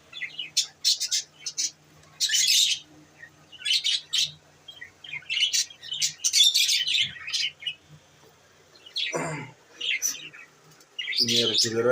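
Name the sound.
pet birds chirping in cage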